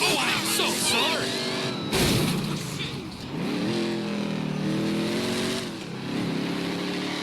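A high-horsepower muscle car in GTA 5 revs hard, its engine climbing and falling in repeated surges with a sharp burst near the two-second mark, while a voice talks over the roaring.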